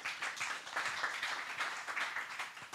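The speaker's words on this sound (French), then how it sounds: "On peut l'applaudir." A room of attendees at an innovation pitch event in Toulouse clap in moderate applause for the next presenter, steady and fairly soft, without speech over it.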